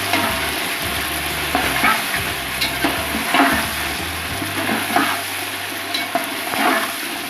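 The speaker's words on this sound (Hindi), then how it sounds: "चिकन को अच्छे तरीके से भून लेंगे" Chicken fries in a pan for pulao, giving a steady loud sizzle with intermittent scraping and stirring clatter throughout, and no voices.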